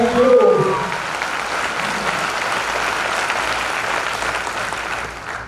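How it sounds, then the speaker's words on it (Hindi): Loud applause from an audience at a summit event in Udaipur, Rajasthan, a burst of dense clapping that peaks at once and then holds steady, with a few brief voices audible at the start. "एक बार जोरदार ताली अपने मार्क्यूज के लिए।"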